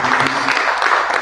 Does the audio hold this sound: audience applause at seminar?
yes